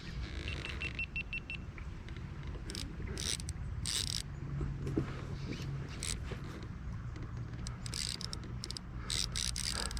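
A fishing reel's drag buzzes and clicks in rapid bursts as a smallmouth bass runs on a light river setup. The sound is faint and close, over a steady background of outdoor noise.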